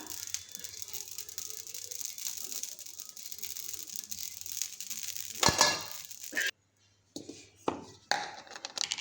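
Onion and grated coconut roast in a pan for a dhaba-style rajma masala, giving a quiet continuous sizzle and patter with occasional clinks of a utensil against the pan, then a short silence and a few scrapes.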